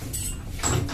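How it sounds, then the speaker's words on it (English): Lift doors in a shopping centre slide shut with a steady mechanical whoosh, ending in a firmer thud of the closing panels; close and moderately loud, with no talking. "Please mind the doors. Doors closing."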